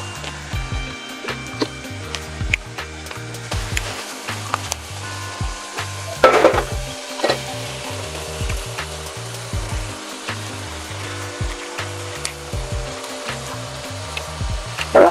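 Chopped cabbage goes into a hot pan and sizzles steadily throughout, with scattered clacks and scrapes of stirring on top.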